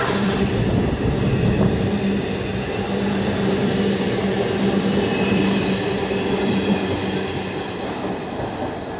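The Howrah-Jamalpur Express passes through Hooghly railway station as a loud, close, continuous rumble with steady wheel clatter and rail noise throughout.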